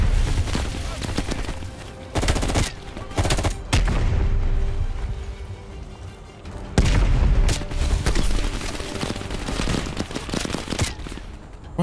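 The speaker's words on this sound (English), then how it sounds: "Where are they shooting from?" Gunfire and bursts of shooting in Call of Duty: Black Ops Cold War, loud and sustained with heavy low booms and dense volleys across the whole stretch, mixed with game sound and some talk.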